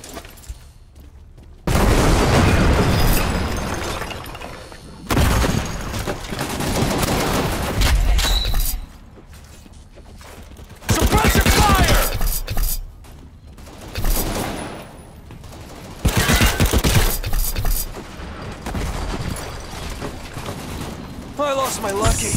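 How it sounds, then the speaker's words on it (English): Gunfire and grenade blasts from a World War combat video game come in loud bursts of rapid shooting and booming explosions, broken by short quieter gaps across the whole stretch. "Suppressive fire!"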